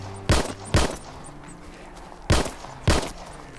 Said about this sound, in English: You have to have a really good aim to kill a hare with a pistol.